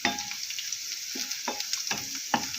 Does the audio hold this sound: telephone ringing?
no